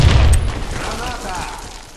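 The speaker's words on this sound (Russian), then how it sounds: "Граната!" A grenade blast in the shooter Warface, a loud, close boom at the start whose low rumble decays over the next two seconds.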